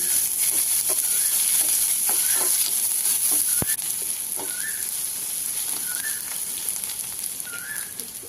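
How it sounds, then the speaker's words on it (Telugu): Thinly sliced onions fry in a pan with a continuous loud sizzle, close up, while a few scattered scrapes and one sharp clack break through; nobody speaks. "ఒక కప్పు సన్నగా తరిగిన ఉల్లిపాయ ముక్కలను కూడా వేసుకుని కొంచెం కలర్ మారినంత వరకు వేయించుకోవాలి"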